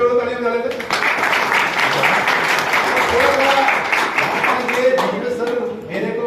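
Audience applause at a team address, a continuous crowd clapping throughout at moderate loudness, with cheering voices mixed in.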